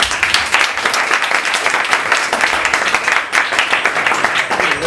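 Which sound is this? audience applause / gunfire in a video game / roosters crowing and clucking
audience applause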